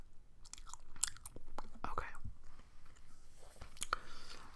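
Gum chewed close to the microphone for ASMR, with moist, clicking smacks and bites in an irregular, continuous rhythm, up close and intimate.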